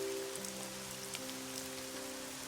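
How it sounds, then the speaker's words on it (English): Heavy rain in the visual novel Summer Pockets Reflection Blue, a steady broadband wash of rainfall with scattered drop patter, joined by sustained soft musical tones underneath, continuous and even for the whole stretch. "the rain was just getting harder and harder"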